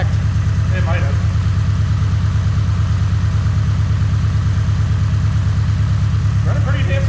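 A Subaru BRZ engine idles steadily after a rough start. A low, even rumble holds throughout, close and loud, and faint voices come through briefly at the start and near the end.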